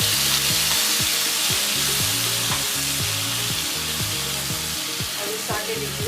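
Onion and pomegranate paste sizzling with cumin seeds in hot oil while being sautéed for North Indian chole, a steady loud frying hiss broken by the repeated scrape of a spoon stirring the pan.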